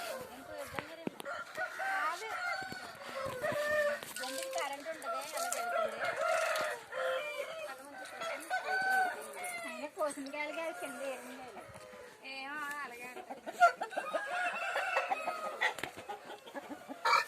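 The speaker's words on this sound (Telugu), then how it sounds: "ఇవన్నీ సంక్రాంతి పందానికి బరిలోకి దిగే కోళ్ళు ఇవన్నీ" Roosters raised for Sankranti cockfights crow and cluck repeatedly at a farmyard, several birds calling close by in overlapping bursts while people talk over them.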